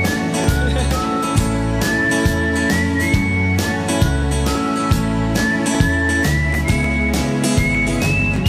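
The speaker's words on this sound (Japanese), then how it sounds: "最後口笛どうぞ" A person whistles the closing melody of a song in a clear, sustained line that rises across the phrase, over a steady full band accompaniment with drums.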